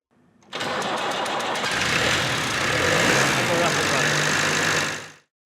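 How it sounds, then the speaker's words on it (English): An old Land Rover diesel engine cranks and catches, then runs loud and steady close by for several seconds before cutting off. "we'll be ready to start the engine"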